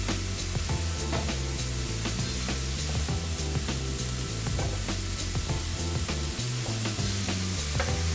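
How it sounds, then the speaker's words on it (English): Mushrooms seasoned with white pepper and nutmeg sizzle steadily in a pan while being stirred, with frequent scraping clicks and quiet music playing beneath. "Give that a little stir around."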